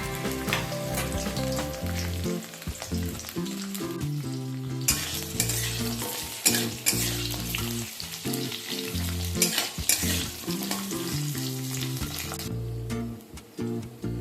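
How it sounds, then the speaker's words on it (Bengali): Pointed gourd (potol) fries lightly in oil. A loud, steady sizzle runs throughout, close by, broken by stirring scrapes and occasional clinks, with no speech. "পটলগুলোকেও একটু ভেজে নিতে হবে হালকা করে।"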